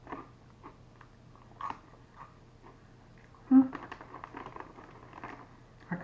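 Close, crisp crunching bites and chewing of hot cheese puff snacks, a loud snap partway through followed by softer irregular munching, with some faint background sounds.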